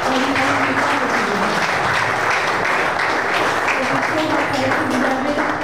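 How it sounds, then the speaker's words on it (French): A conference audience claps loudly and steadily throughout, a dense sustained wash of applause with no pauses. "je vais vous demander de l'applaudir"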